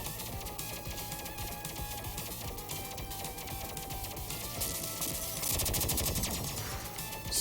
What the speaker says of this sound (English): So much fire going on.